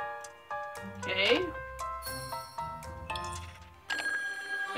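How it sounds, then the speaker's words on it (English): Telephone ringing inside a video game, bright bell-like tones ringing in bursts amid game sounds, with a person talking over them. "Anybody gonna answer the phone?"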